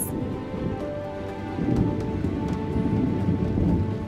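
Rain falls during a safari sundowner in Kenya, a dense, steady patter of drops with low rumbling, heavier after the first second and a half, with no talk over it.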